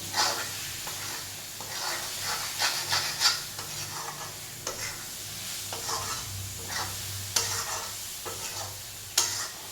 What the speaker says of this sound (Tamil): பக்கத்துலேயே நின்று கலரி விடுங்க, அப்படியே கலரி விடுங்க.